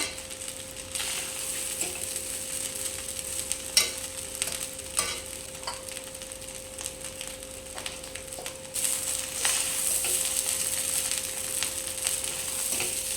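Egg fried rice being stirred as it fries in a pan, with a constant sizzling hiss, occasional sharp utensil taps against the pan, and the sizzle growing louder near the end; nobody speaks.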